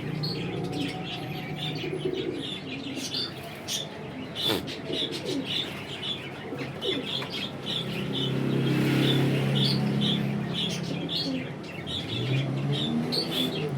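Pigeons coo and chirp near and far across the whole stretch, with occasional wing flaps and a louder cluster of cooing in the middle.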